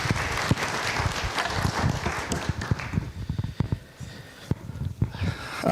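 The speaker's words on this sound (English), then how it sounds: "Another round of applause, ladies and gentlemen." An audience claps steadily, a dense wash of applause that thins out toward the end with a few scattered louder claps.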